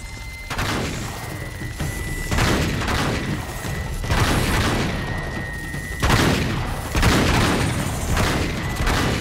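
Gunfire in the video game Uncharted 3 as Sully keeps shooting: repeated loud bursts of shots and booming impacts arrive in clustered volleys every couple of seconds, close and dominant with no talk.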